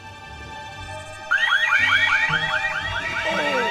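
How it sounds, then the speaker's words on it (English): A warbling electronic burglar alarm in The Sims 4 kicks in partway through, repeating rapid rising sweeps, loud and steady over a low background hum. "Sorry about the overlap with the loud alarm"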